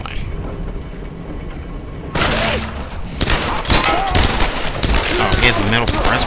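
Gunfire in the Tomb Raider game's mountain village and shanty town area: after a quieter stretch of ambience, loud cracking shots and booms burst out one after another amid chaotic combat noise, close and dense.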